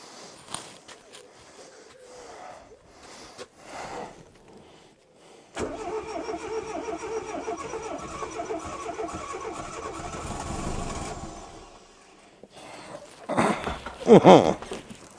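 An old Renault that sat in a hedge for 26 years tries to start on two-stroke petrol mix. The starter cranks steadily for several seconds, then falls quiet, followed by a louder sputtering burst near the end.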